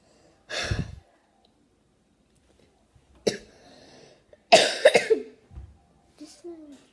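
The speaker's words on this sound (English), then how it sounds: "I'm coughing." Someone eating chips coughs in separate close bursts, one single cough, then a sharp one, then a louder cluster of two or three, with quiet breathing between them.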